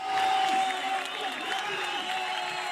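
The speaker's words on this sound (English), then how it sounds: "Listen to the crowd. They love that." A packed crowd roars at a scooter men's street competition final at Barcelona Extreme 2023, a steady loud wash of cheering and applause with shrill whistles cutting through.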